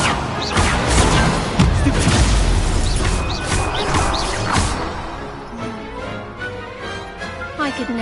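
Incendio fire spells cast during a duelling tournament in Hogwarts Legacy: a dense, loud run of bursting, crackling magical blasts with booming impacts for about five seconds, then easing into quieter rumbling effects and background music.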